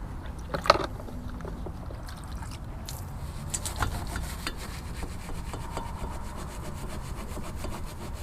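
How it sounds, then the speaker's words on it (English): Wheel brushes scrubbing a degreased car exhaust, a steady rough rasping rub with a few sharper knocks, close and continuous, with no talking. "spraying the degreaser on, and yeah, just seeing what we can get off with just like wheel brushes and stuff"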